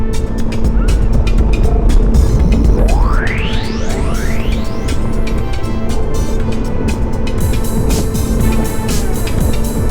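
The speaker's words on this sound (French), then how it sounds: "Elle tourne bien la moto, hein." An Alrendo TS Bravo motorcycle with a 180 rear tyre cruising steadily on an open road, a constant loud engine and wind roar throughout, with rising whistling tones sweeping upward partway through.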